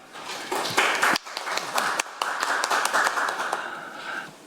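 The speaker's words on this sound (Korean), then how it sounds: "큰 박수 부탁드립니다." Audience applause at a Korean National Assembly forum on public-sector AI adoption, a few seconds of steady clapping from a seated crowd, fairly close and full, with no talk over it.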